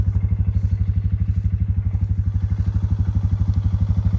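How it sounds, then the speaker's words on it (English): A quad bike fitted with a flail mower idles close by on an olive farm in Piedmont, Italy. The engine thumps loudly in a fast, even rhythm and keeps running steadily with no talk over it. "This is a quad,"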